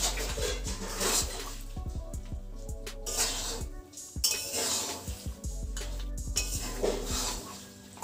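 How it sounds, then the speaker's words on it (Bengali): Jujube pickle stirred in a pan over a medium gas flame, with repeated clanking and scraping of a metal spoon against the pan in irregular bursts over a low steady hum, close up. "এইভাবেই এটাকে নাড়তে থাকবো মাঝে মাঝে।"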